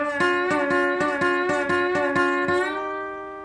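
Guitar lick picked without muting, about eight notes in steady rhythm with each ringing on and blurring into the next, ending on a sustained note that slowly fades; close and clear, no talking.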